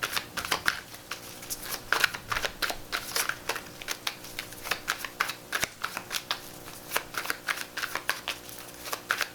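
Tarot cards being shuffled by hand in a steady run of quick, crisp riffling bursts, close and moderately loud, with no talking.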